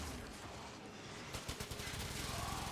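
The Yareli Prime secondary weapon fires in Warframe, starting after a brief lull as a rapid, close burst of shots in quick succession.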